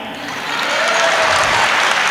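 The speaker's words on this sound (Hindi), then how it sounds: "तालियां" Audience at a mushaira poetry gathering breaks into sustained applause, a dense, steady roar of clapping that swells slightly and carries on without talk.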